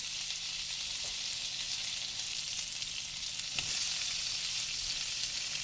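Southern fried cabbage frying in a pan with little grease, a steady bright hiss of close sizzling throughout, with a brief clatter near the end and no talk.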